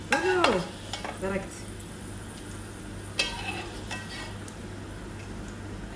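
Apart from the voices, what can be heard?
onions frying and stirred in a pot for biryani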